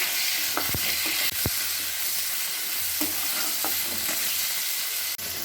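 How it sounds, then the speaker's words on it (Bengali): Flat beans fry lightly in a pan with a steady, loud sizzling hiss, broken by a few sharp scrapes of stirring. No one speaks. "ছিমগুলো হালকা ভেজে নেব"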